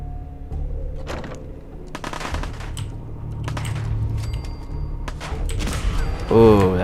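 Crank-charged weapon firing at raiders in Fallout 4: sharp bursts of rapid gunfire come in several separate volleys between quieter gaps, with mechanical clatter and a closing whirring, rising tone near the end.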